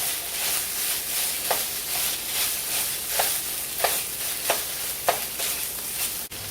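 A spoon works cream cheese into a slow cooker beef and scalloped potato casserole, giving a soft bubbling hiss punctuated by repeated scraping strokes at an uneven rhythm, with a clunk near the end.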